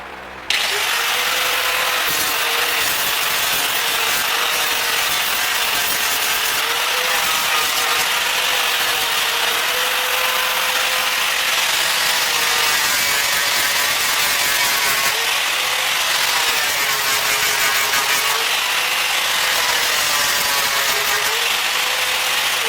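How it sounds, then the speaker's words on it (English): A power grinder works a Jaguar door panel in a long, loud, continuous high-pitched whine and grinding rasp, its pitch wavering slightly as pressure changes, with no talking. "Grind some more."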